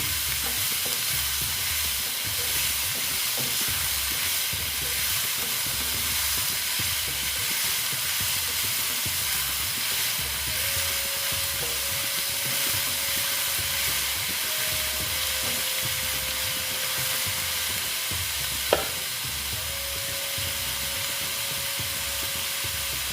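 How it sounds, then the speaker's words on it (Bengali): Soybean chunks fry with salt in a pan, giving a steady, close sizzle with scraping stirring sounds throughout. A faint tone runs through the later part, and a single sharp click lands near the end. "দেখো একটু আমি নুন দিয়ে দিচ্ছি দিয়ে ভালো মতো এটা আমি ভেজে নিচ্ছি"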